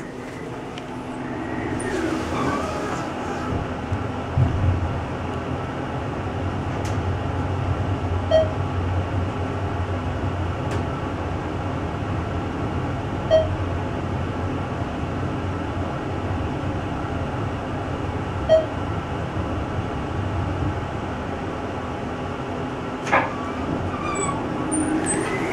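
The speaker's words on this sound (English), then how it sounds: "You may not be able to tell over the noisy fan, but this is actually traction." A ThyssenKrupp traction elevator at the K-State Student Union in Manhattan, Kansas runs with a steady low hum and rumble, nearly buried under the constant whir of a loud fan, with a few faint clicks along the way.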